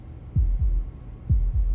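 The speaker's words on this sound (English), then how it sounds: "That was the sound of a heartbeat, followed by another, and another." A deep, muffled heartbeat in Slay the Princess thumps in two evenly spaced double beats, low and resonant against a quiet, faintly humming background.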